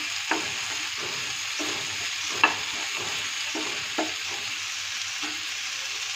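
Pumpkin and potato pieces being stirred in a frying pan, a soft steady sizzle punctuated by regular spatula scrapes and a few sharper knocks against the pan, with no one talking.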